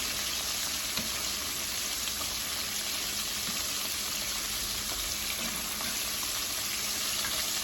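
Quail fry in a pan, turned until golden brown, giving a steady, loud sizzle and crackle of hot oil that holds without pause.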